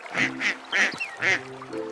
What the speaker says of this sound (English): Mother Duck said, quack, quack, quack, quack, quack, quack.